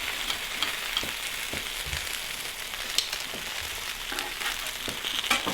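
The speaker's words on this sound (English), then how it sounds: "I'm gonna turn the Blackstone up to high again, and now we're finishing off the outside skin" Chicken wings fry on a Blackstone griddle turned to high, crackling and sizzling steadily up close, with occasional spatula scrapes and small pops as the skin crisps.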